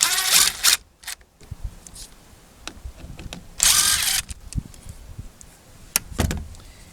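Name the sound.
power drill removing screws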